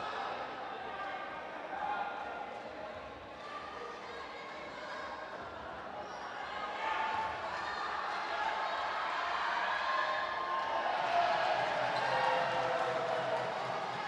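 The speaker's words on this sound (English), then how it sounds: "I'm not sure whether the NDB fans are cheering him or distracting him" Basketball fans at a Mercantile League men's final between CDB Finance and NDB Bank keep up a continuous, fairly distant crowd din of cheering and noise during free throws, under a commentator's voice.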